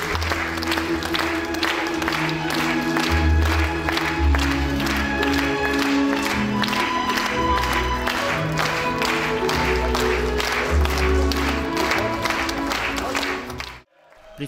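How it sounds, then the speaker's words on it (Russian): A theatre audience gives a long, sustained ovation after a performance in Maykop, dense steady clapping filling the hall with some crowd noise and music beneath, cutting off abruptly near the end. "После завершения они долго не отпускали артистов овациями."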